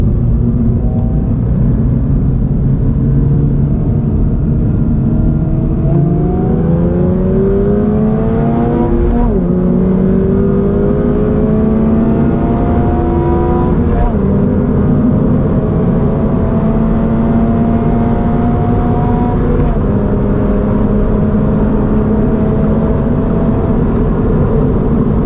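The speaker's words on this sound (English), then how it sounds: "when you're shifting the gears at full throttle, due to the lightweight flywheel that they have on this model now, this thing shifts so nicely." A stock 2022 Subaru BRZ with a lightweight flywheel pulls hard at full throttle, its engine note climbing in pitch then dropping abruptly at each of several quick gear shifts, loud and close throughout with no talking.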